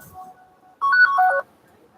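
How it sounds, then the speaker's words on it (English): A mobile phone ringtone plays one short, loud burst of bright electronic tones in a quick rising and falling melody, clear against a quiet room. "your phone's ringing again."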